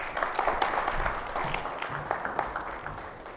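Audience at a university Three Minute Thesis finals breaks into applause, a dense, lively patter of many hands clapping continuously in a hall.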